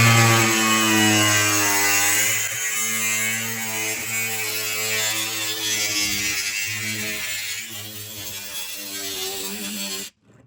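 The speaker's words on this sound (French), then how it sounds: "Tu dois lancer la meule et après t'appuyer" An angle grinder cuts through van bodywork to open a window, holding a loud, close, steady whine whose pitch drifts as it bites the metal, then stops abruptly near the end.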